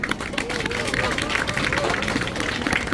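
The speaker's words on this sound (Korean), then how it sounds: "노인 여러분들 큰 박수 한번 부탁드립니다." Elderly people at a Senior Citizens' Day ceremony in a sports stadium clap together, a steady crowd patter with voices and crowd murmur mixed in underneath.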